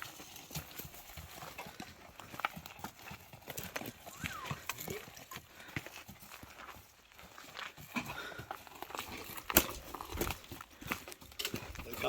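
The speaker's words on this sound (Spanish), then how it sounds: "El caballo que trabaja mejor que un mulo, ¿eh?" A working horse hauling cork walks in a steady clip-clop of hooves over rough ground. Other outdoor noise sits underneath and the hoofbeats are moderately close.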